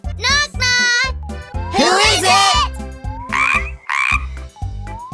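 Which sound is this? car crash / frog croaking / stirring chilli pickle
frog croaking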